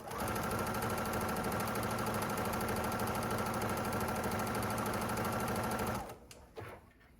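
Sewing machine stitching a drawstring bag, a fast steady mechanical whir running close and loud for about six seconds before stopping abruptly, followed by a couple of small clicks.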